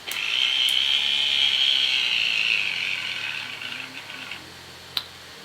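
A small electric beauty sponge washing machine whirs with a steady high hum that slowly fades as it winds down, followed by a brief click near the end.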